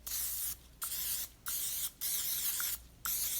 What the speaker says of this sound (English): we're going to just use our cooking spray and just spray each muffin just so it doesn't stick